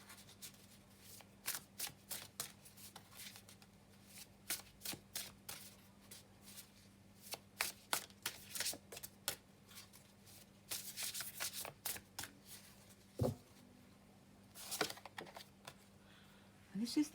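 Oracle cards handled and laid down on a table give soft, irregular flicks and snaps in scattered bursts over a faint steady hum, with quiet speech in places.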